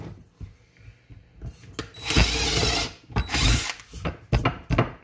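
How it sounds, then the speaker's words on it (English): Power drill boring holes into a pumpkin to make a pumpkin box, with several loud bursts of whirring and grinding separated by short pauses, close up and with no talking. "Just try not to drill outside the line"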